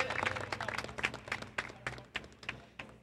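Applause from an audience at a horse racing trophy presentation, a steady spread of many hands clapping with irregular louder bursts, moderately loud and close, a low hum running beneath.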